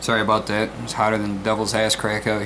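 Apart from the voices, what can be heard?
No everyday noises stand out.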